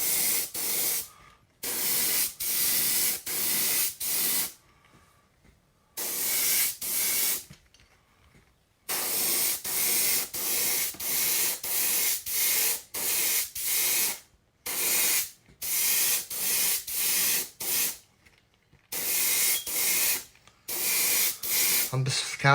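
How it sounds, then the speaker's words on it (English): Spray paint hissing from an aerosol can onto a pumpkin seed fishing lure in bursts of a second or two, close and steady, separated by brief silent pauses, with no talking. "I'm just kind of spraying this kind of light to heavy"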